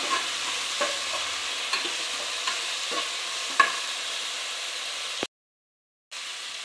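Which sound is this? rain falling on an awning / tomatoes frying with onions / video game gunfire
tomatoes frying with onions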